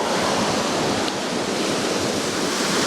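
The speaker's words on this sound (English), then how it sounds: "The water's really high right now." High, fast-moving water rushes steadily outdoors on a morning shore, a dense unbroken roar that stays loud and even throughout with no voices.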